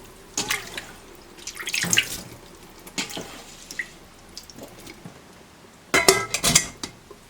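Soaked dried radish strips are rinsed in a bowl of water at a kitchen sink: scattered close splashes, drips and light clinks of the bowl, with a louder cluster of splashing near the end and no talk.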